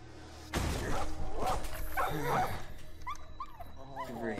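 A dog barks and then whimpers in an episode of the TV series Daredevil. A loud bark opens the sound, followed by rough vocal noise and then a run of high, wavering whines and yelps, with some talking mixed in.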